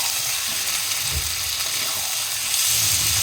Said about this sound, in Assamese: মছলা পানীটো আৰু মছলাটো ভজাই গৈছে ন লৰাই থাকিব লাগে